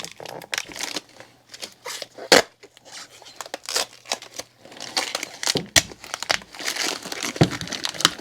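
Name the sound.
transparent dye film ripping and tearing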